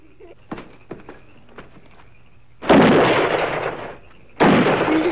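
Gunshots in an old Abbott and Costello TV comedy show, a few light pops followed by two loud sustained bursts of gunfire, with no talking.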